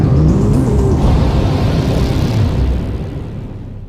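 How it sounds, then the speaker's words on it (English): Orion spacecraft's rocket upper stage firing during ascent to 3,600 miles above Earth, a loud, continuous deep roar with crackling rumble that holds steady, then gradually fades over the last second or so. "The upper stage of the rocket fires again."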